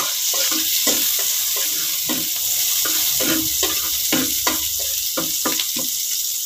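Onions sizzling in a hot pan while a spoon stirs them, giving steady frying hiss with irregular scraping and stirring strokes, close and continuous.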